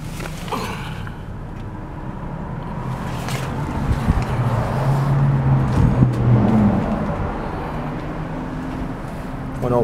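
A 2012 Harley-Davidson FLTRU Road Glide Ultra motorcycle with a six-speed transmission idles steadily nearby, a continuous low rumble that swells slightly midway, with no talk over it.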